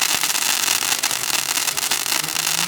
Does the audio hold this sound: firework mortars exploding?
yes